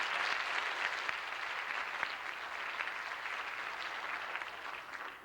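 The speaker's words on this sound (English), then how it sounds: "So let's give our teachers a round of applause." An elementary school crowd at a 1992 DARE graduation applauding teachers, a dense, sustained round of clapping from many hands, steady and moderately loud in a large room.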